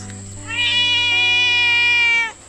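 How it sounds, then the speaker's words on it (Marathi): A small tomcat gives one long, clear, drawn-out meow close by, rising and holding steady before cutting off, with quiet surroundings. "हे एक आमचा छोटू मांजर आहे आणि बोका आहे"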